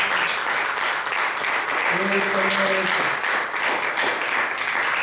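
Sustained applause from a church congregation, dense and even throughout, with a brief voice rising in the middle.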